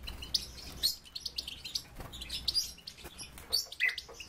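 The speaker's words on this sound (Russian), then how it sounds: "здесь помимо щеглов и коноплянок у меня еще содержится рюм, рогатый жаворонок." Goldfinches, linnets and a horned lark in an aviary, giving sporadic bright, high chirps and tweets close by, with scattered calls overlapping and no talking.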